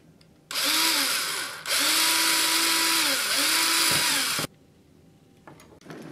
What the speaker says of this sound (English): So what I'm going to do is just drill a hole there and maybe drill a hole there.